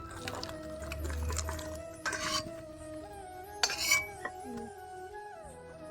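A ladle scoops cooked chana dal and serves it into a bowl, heard as soft metallic scrapes and scattered clinks of utensil against pot and dish. The sounds are close and moderately quiet, with a sharper knock near the end.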